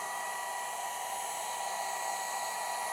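A heat gun blows over an acrylic paint pour, a steady, close, whirring hiss of fan and hot air that holds an even level the whole time, with no voices.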